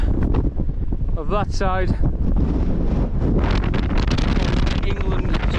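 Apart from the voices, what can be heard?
strong wind blowing at a tent pitch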